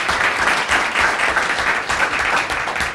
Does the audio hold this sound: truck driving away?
no